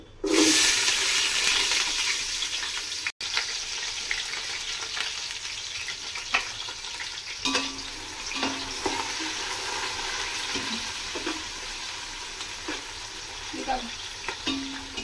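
Onions frying in a pan for a Muslim-style biryani, a loud burst of sizzle as they hit the hot oil, then a steady crackle under repeated stirring scrapes for the rest of the stretch, with no talking.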